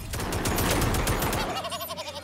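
Rapid gunfire crackles in the action video game Akimbot, a dense burst of fast repeated shots that tapers into a wavering electronic warble, loud and close in the game mix.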